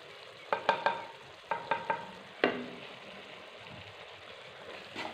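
Tomatoes with coriander, salt and turmeric being stirred in a pan, a handful of sharp scraping clatters in short bursts over a steady low sizzle, fairly close.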